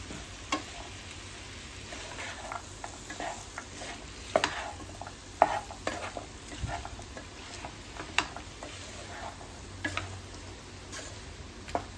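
Fried cauliflower and potato pieces are stirred in a hot pan, the spatula ticking and scraping in scattered strokes over a continuous low sizzle, nearby and without voices.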